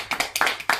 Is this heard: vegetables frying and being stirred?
no